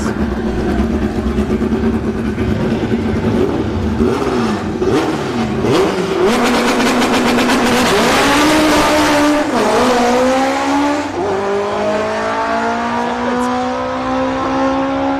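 A CRX drag race car from Ethan Baker Performance roars down the strip at a Bradenton Motorsports Park drag racing event, its engine loud and close, climbing through repeated rising revs and gear changes for the whole stretch.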